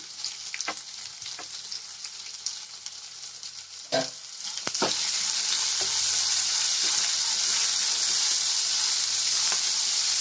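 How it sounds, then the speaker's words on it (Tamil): Chopped onions sizzle and fry in a hot pan while being stirred for a wheat adai dish, with steady loud hissing that swells after a clatter of added pieces midway and continues unbroken. "வெங்காயம் ஒரு செகண்ட் வதங்கட்டும்"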